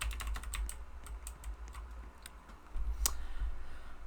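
Quick, light keystrokes on a computer keyboard, typed in irregular bursts while entering a city name in a strategy game, clicks close and distinct over a low steady hum.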